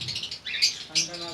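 Lovebirds in an indoor breeding setup of high-mutation pairs give short, bright chirps and tweets in a few quick bursts, close and clear with no talking.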